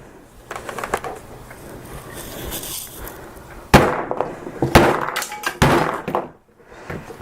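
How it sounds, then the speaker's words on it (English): A hammer striking the display of an HTC One M8 phone: a few light taps, then a series of loud, sharp, close knocks spaced about a second apart, with quiet handling noise between them. "I'm smashing this thing really hard, and this is not breaking"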